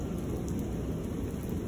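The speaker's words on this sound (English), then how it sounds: "that was a positive lightning strike" Thunder from a positive lightning strike in a heavy thunderstorm in Lubbock, Texas: a low, sustained rumble rolling under steady rainfall, with no voices.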